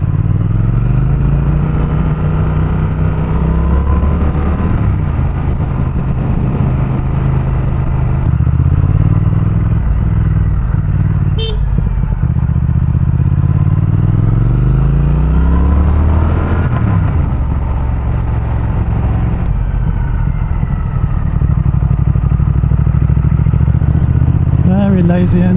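Triumph Speed Twin motorcycle engine heard while riding, a steady low thudding twin-cylinder drone that rises and falls through gear changes, close and loud, with wind noise and someone talking over it.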